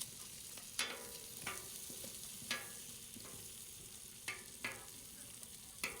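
Crappie fillets sizzle softly in butter in a pan, a quiet steady frying hiss broken by several sharp scrapes and clinks as they are moved around.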